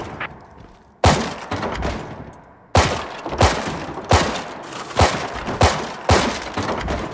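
Gunfire at a shooting range in the Firewall Ultra VR game on PSVR 2: a series of loud, sharp single shots with hard attacks, spaced about a second apart at first, then coming faster, with no talking.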